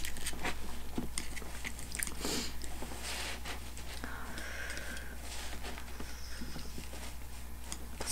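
Crispy fried chicken karaage being bitten and chewed up close, crunchy bites and chewing sounds over a constant low hum, with a brief murmur of voice.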